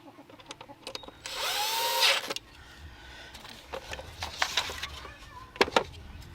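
Two stainless screws driven by a power screwdriver into a chicken door opener, with a short whirring burst followed by lighter clicks and handling knocks nearby.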